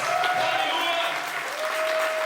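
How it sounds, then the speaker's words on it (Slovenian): Loud, continuous applause from a congregation during a church mission service, with tones of music or sustained singing sounding through the clapping. "Dajmo en aplavz Jezusu."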